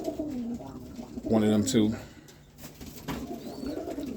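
Roller pigeons coo in a low, rolling pulse close by, one stronger burst in the middle, while someone talks over and around them.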